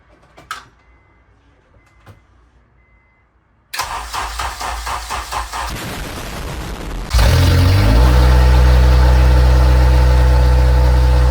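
After a few quiet clicks, a starter motor cranks in rapid pulses, then a Honda Jazz/Fit with a swapped K20 engine catches on its first start and settles into a loud, steady idle.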